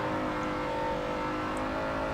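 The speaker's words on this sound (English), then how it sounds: "Okay, I'm gonna start braking here." A car engine in Forza Motorsport 7 at the Nürburgring, heard steadily and loudly as the driver brakes from around 200 km/h, with a sustained droning tone and no talk over it.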